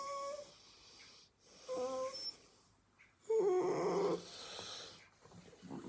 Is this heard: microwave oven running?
no